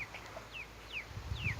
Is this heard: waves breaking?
no